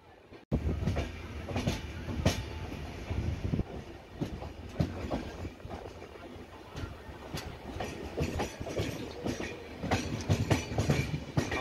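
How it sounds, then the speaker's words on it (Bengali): A Duronto Express train runs on its rails, heard from inside as a loud, steady rumble with rhythmic clickety-clack from the wheels over the joints. "আমাদের ট্রেন এই মুহূর্তে খড়গপুর স্টেশনে ঢুকছে"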